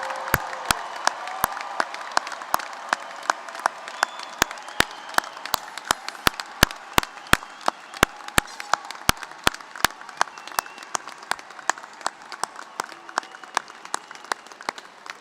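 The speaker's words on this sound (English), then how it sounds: "Let's give them a big, big round of applause." Applause from a large audience at a spring university engineering commencement after graduates move their tassels, a steady wash of clapping with distinct close claps striking at a regular beat throughout.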